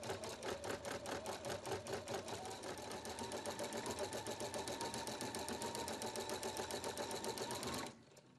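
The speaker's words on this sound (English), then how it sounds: "The inside of the butterfly is stitched, and then a straight stitch outline for the wings." A Husqvarna Viking Platinum Plus sewing machine embroiders a butterfly cutwork design, filling the inside and then outlining the wings in straight stitch: rapid, steady mechanical stitching close by that runs evenly before stopping abruptly near the end.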